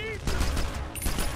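Gunfire in the video game 007: Quantum of Solace comes as a rapid burst of shots, loud and close, lasting only a moment, with a voice faintly mixed in.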